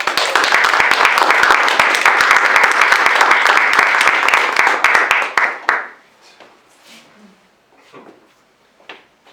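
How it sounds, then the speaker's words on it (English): Audience at a student speak-out night giving a round of applause, dense and loud for about six seconds before cutting off sharply, followed by a few faint stray sounds in a quiet room. "how about another round of applause?"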